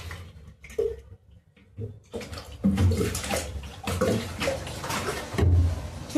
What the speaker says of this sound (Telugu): కొన్ని వాటర్ పోసుకుంటాను నేను.